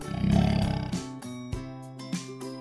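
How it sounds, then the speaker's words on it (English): A lion gives one loud, close, rumbling roar at the start that fades out within a second, followed by background music. "Lion."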